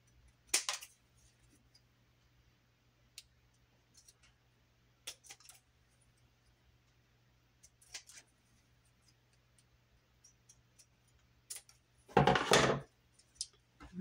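Scissors trim excess paper during book making, a few sparse, quiet snips and clicks spread across a near-silent stretch, ending in a louder rustling cut.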